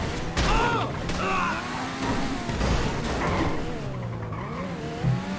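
A car in the GTA video game drives and skids, its engine droning and rising while tires squeal in wavering screeches, loud and continuous, with a voice briefly heard underneath.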